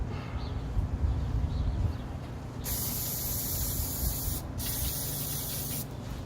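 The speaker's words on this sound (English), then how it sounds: "Hit the shell with a little brake clean." Aerosol brake cleaner hisses in a steady spray onto an engine bearing shell from a Ford Intech 4.0L, a bright continuous jet with a brief break and a short trailing burst at the end.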